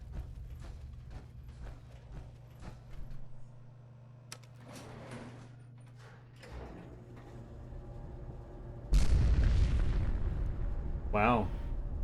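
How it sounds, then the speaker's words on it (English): Fallout 4 game audio with scattered mechanical clanks and thuds, then a sudden loud boom bursts in near the end and rumbles on, followed by a brief warbling tone; no speech. "Big explosion, whatever that was."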